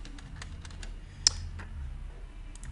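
A root password is typed on a computer keyboard during a CentOS 7 server install, giving a quick irregular run of light key taps close up with one sharper click partway through.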